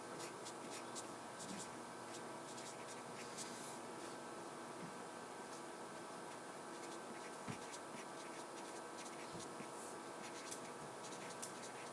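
Pen or pencil writing by hand during a lesson on adding and subtracting integers, a steady close scratching that runs unbroken for about twelve seconds with faint background hiss.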